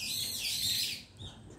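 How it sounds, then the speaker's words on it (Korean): Small birds chirp and tweet in a burst of bright, high calls near a house in rain, fairly close, with no talking. "새두 마리가 들어와가지고"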